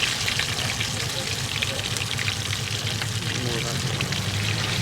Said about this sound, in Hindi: अब इसमें डाला जाएगा ये मसाला, जो मसाला बनाया गया था उसको डाला जाएगा फ्राई करने।